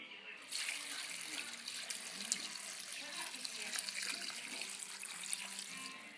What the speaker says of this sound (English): I'm going to dump just enough water to cover the pasta.